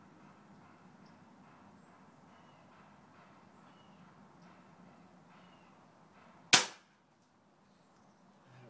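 A single sharp report from a pellet gun fired freestanding at a target roughly 65 yards away, one loud crack standing alone over faint outdoor background, followed by near silence.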